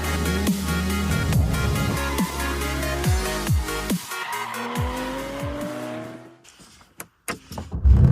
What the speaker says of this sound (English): beginning with firing up this new Targa GTS T-Hybrid and getting it ready for its Euro trip